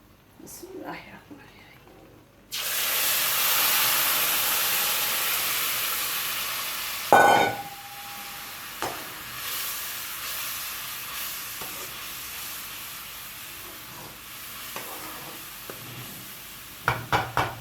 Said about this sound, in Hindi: अब हम इसके अंदर अपना जो शीरा था वो डाल देंगे।